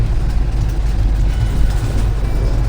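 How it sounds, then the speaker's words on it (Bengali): A moving passenger train heard from inside a coach nearing Dhanbad, a loud, steady low rumble of running wheels with a faint high whine, continuous throughout and free of talk. "আর ট্রেন এখন ঠিকঠাকই চলছে, একটু লেট আছে 20 মিনিট মতো।"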